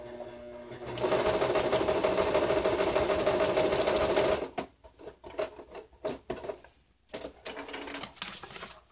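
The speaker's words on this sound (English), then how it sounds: "Let's just stitch through the tab real quick." A sewing machine stitching through a paper tab in an altered book, running in a loud steady whir for about three seconds, then stopping into scattered clicks and brief handling sounds.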